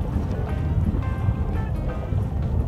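Boat engines hum low and steady while holding position during vertical fishing at sea, mixed with wind buffeting the microphone and faint water movement, with no voices.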